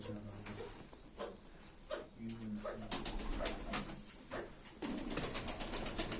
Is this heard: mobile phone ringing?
no